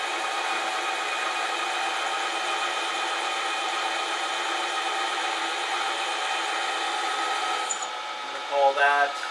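Steady high-pitched whine of a drill boring a quarter inch down into metal for rotary balancing, continuous and close, then it stops and a few light clinks and scrapes follow.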